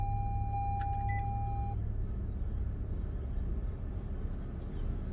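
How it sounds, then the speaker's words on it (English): Low, steady engine rumble of a truck idling and creeping in behind a parked car on a street, with a few faint electronic beeps early on and constant traffic-like drone throughout. "I think this truck is trying to get in."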